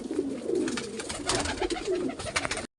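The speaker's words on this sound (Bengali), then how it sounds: "একদম পায়রা, খুব জাতের পায়রা।" A pigeon of a fine breed, partly paralysed, coos nearby in a throaty, rolling series of low calls over a background of rustling and other birds.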